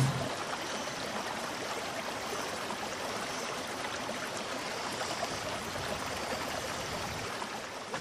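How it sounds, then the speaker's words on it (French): Irrigation water diverted from a mountain torrent runs steadily through a field channel, a continuous close rushing and trickling flow with no voices. "l'eau prise à la source ou dérivée du torrent est répartie pour irriguer les champs"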